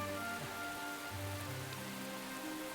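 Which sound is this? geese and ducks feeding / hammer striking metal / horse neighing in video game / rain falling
rain falling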